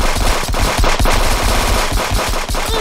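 A heavy-recoil automatic gun in a video game fires in a loud, sustained stream of rapid close shots for nearly three seconds, with brief dips in the rhythm.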